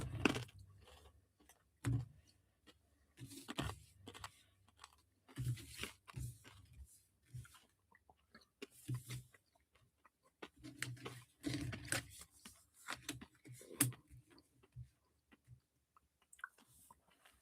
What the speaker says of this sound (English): Sorry, I'm just chewing my cough drop here.